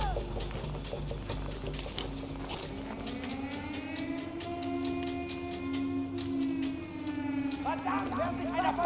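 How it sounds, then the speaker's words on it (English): A wailing siren in a video game rises and holds for several seconds, then fades, with people talking and game-like clatter around it. "They're sounding sirens now."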